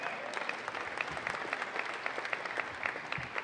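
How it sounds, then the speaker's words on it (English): A round of applause from school district staff at a superintendent's meeting, fairly faint and even, a continuous patter of many hands with no talk over it. "Give yourselves a round of applause."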